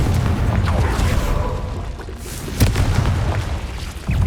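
Blasting spell explosions boom in Hogwarts Legacy, with heavy low rumbling bursts, a sharp blast midway and another near the end, loud and close over continuous combat noise.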